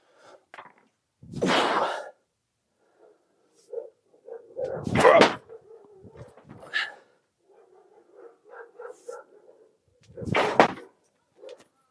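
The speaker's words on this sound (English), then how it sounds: "I don't know if you can hear him bark out there." Dog barking outdoors, three loud bursts spaced a few seconds apart with quieter rustling and faint yelps between them, fairly close and heard alone.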